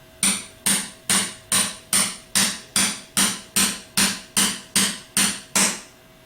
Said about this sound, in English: Place the bearing on the shaft and use an 18mm deep well to tap the bearing on.